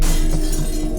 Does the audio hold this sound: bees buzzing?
no